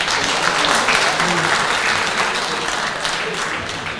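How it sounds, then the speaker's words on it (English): An audience at the finals of an international bridge championship breaks into loud, sustained applause, many hands clapping densely and evenly throughout. "Please give a huge round of applause for Boy."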